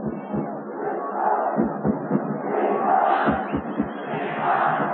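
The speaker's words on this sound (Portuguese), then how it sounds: "E aí a torcida grita, Nippon, Nippon, Nippon." Stadium crowd at a 1999 Japan versus Brazil friendly football match chanting Nippon, a loud continuous roar of massed voices with rhythmic surges throughout.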